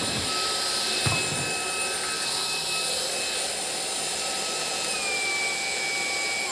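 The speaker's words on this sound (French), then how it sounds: "Donc voilà pour le petit aspirateur." A small vacuum cleaner with a built-in light runs at its level 2 setting, giving a steady, loud, close whine and rushing airflow throughout with no speech.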